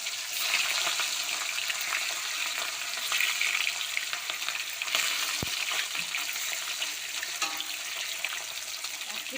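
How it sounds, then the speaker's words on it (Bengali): Steady hot-oil sizzling of fish frying in mustard oil in a wok, a continuous crackling hiss with an occasional sharper pop, close and fairly loud throughout. "কড়া বসিয়ে সরষের তেলও দিয়ে দিয়েছি, তেলটা গরম হয়ে গেছে। আমি মাছগুলো ভেজে নেবো।"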